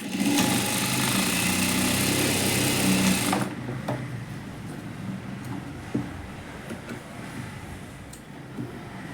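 Sewing machine stitching a princess cut blouse runs loud and close for about three seconds, then stops, leaving quiet handling noises and soft clicks.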